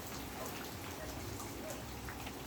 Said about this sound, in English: It's a rainy Saturday morning here.